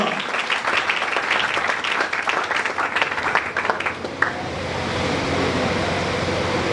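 Applause at a church service, a sustained burst of clapping from a congregation that fades into a steady room hum after about four seconds.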